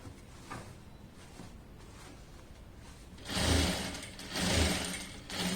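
Sewing machine stitching a puff sleeve frock, quiet at first, then running in two loud bursts of steady mechanical whirring.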